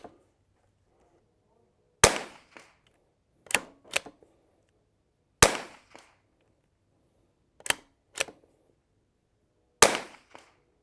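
Several crisp rimfire rifle shots from an Anschutz 1727F or Vudoo firing Eley Ultra Gen 2 ammunition, sharp close cracks spaced a few seconds apart, each followed by a faint mechanical click in near silence.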